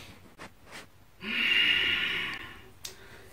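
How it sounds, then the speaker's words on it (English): A single deep, audible inhale-exhale during a yoga exercise for the neck and shoulders, a close breathy rush lasting about a second after a couple of faint sniffs. "Take a deep breath."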